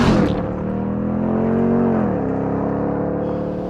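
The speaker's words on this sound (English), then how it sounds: "The supercharger whine plus V8 growl is intoxicating." A 2021 Ram 1500 TRX pickup with a supercharged V8 accelerates hard, a loud, close engine roar with supercharger whine climbing in pitch, easing briefly, then holding a strong steady drone.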